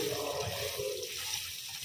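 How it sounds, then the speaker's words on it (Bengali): Tap water runs steadily and fairly loudly as chopped leafy greens are rinsed a second time, a continuous splashing wash with no speech. "কাটার পরও আর একবার ধুয়ে নেবো"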